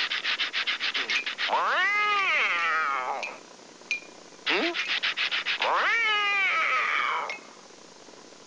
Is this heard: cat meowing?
yes